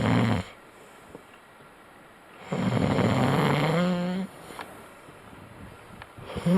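A man snores loudly while asleep at home, with a long, rattling, drawn-out inhale snore, then quieter breathing and the start of another snore, heard up close over a steady background hum.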